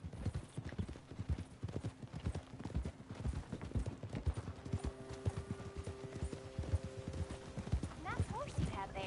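Steady clip-clop of horse hooves at a walking pace in Red Dead Redemption 2, close and continuous, with a brief horse whinny and voices talking over it.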